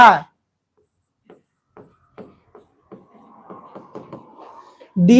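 Chalk or marker writing on a board during a Class 10 maths lesson, a run of short scratchy strokes in uneven bursts, with someone speaking briefly at the start and end.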